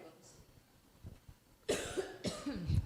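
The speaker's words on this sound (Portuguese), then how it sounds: "A titia tava segurando essa tosse fazia 5 minutos." Several close, harsh coughs in quick succession after a quiet stretch, loud against the background.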